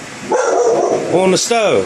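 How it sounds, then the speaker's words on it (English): A pet dog barking indoors in a kitchen, a couple of close, loud yips and barks mixed with someone talking over them. "Excuse my dog for barking like a moron."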